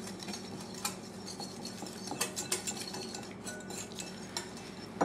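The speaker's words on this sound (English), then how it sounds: "So I'm going to whisk this, okay, until it's nice and mixed." Wire whisk stirring Caesar salad dressing with Worcestershire sauce in a bowl, a steady close clatter of metal tapping and scraping the sides with rhythmic bursts, no voices.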